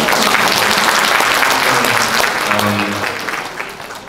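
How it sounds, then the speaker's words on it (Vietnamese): Audience clapping at a fundraising dinner party with singers on stage, a loud burst of applause that fades toward the end, with a voice and faint musical tones underneath. "Một tràng pháo tay cho"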